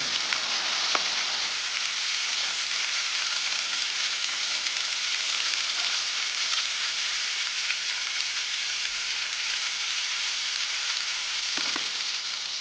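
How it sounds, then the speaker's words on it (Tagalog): Garlic and onion sautéing in hot oil for pancit gisado, a continuous even hiss of sizzling fat that holds steady throughout, with faint occasional clicks and no voices. "Sa mainit na mantika, higisa ang bawang at sibuyas."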